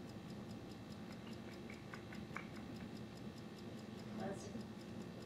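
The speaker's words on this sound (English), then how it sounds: "Clock ticking." A clock ticks in a room with a regular, faint tick under a low background hum, and a brief voice-like sound cuts in near the end.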